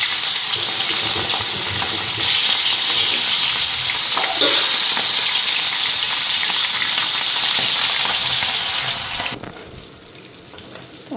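Fish frying in hot oil in a pan gives a loud, close, steady sizzle for about nine seconds, then falls away abruptly to a much quieter background.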